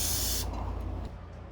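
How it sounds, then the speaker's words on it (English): Spray adhesive hisses onto the fabric side of a new convertible top for a 1984–1993 classic Porsche 911, one loud continuous burst for about half a second that then cuts off, leaving a low background rumble. "And you also have to spray the material"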